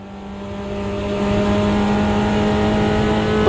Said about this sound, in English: Inside rear wheel just spinning up